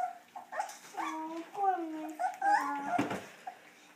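A 3.5-week-old puppy whimpers and squeaks in a series of high, wavering cries, close up, with people talking softly around it.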